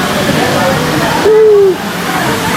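Dampalit Falls in Los Baños, Laguna, crowded with bathers, sends up a steady, close rushing roar of falling and splashing water, broken briefly by a thin whistling tone partway through.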